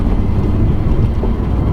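Low, constant exhaust drone from a BMW M140i fitted with the M Performance exhaust, heard from inside the cabin in comfort mode, a loud, steady rumble over road noise with no talk.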